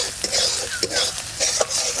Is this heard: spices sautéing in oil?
yes